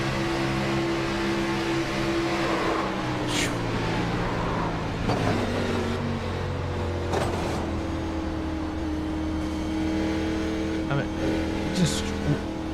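Race cars in an iRacing sim race at Daytona, engines droning and shifting pitch as cars pass, with a few sharp impact bursts of a car slamming the outer wall and safer barrier, all under steady commentator talk.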